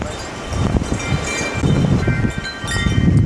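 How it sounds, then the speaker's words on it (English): Strong, gusty wind rushing down through valleys at a house in Spain, a loud roaring buffet against the microphone with low rumbling surges and rustling, rising and falling in gusts. "the wind just rushes down through these two valleys and hits the valley where this house is actually located"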